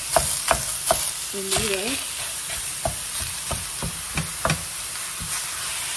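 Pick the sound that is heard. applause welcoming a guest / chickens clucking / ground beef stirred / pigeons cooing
ground beef stirred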